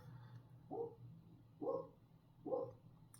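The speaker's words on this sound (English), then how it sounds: "the dogs just keep barking" Dogs bark downstairs, three muffled, spaced barks at a moderate distance over a low steady hum.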